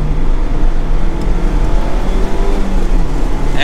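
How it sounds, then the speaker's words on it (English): A 2023 Mazda Miata RF with a manual gearbox revs high on a test drive along the Tail of the Dragon road, its engine a loud, steady drone that holds up close with no talking. "we're getting high in that rev range, but I like how you can ring it out"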